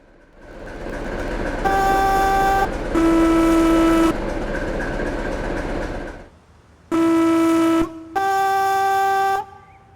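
Class 460 electric multiple unit horn, MKS version, in Train Simulator: two loud two-tone blasts, a short pause, then two more, over a steady background rumble.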